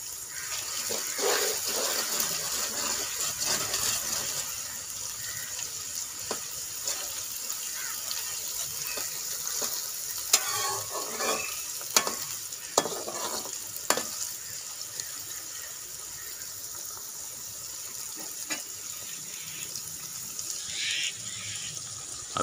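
Green chili paste sizzles softly in a pan while being stirred, with scattered scrapes and clicks of the spoon over a steady hiss that runs throughout, and no voices.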